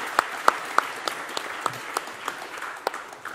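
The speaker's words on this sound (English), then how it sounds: "give a round of applause for our colleague Gijs, who actually had a better car." Scattered, thin clapping from a small audience at a tech talk about a self-driving RC car race, a few sharp claps spaced out and fading rather than a full ovation.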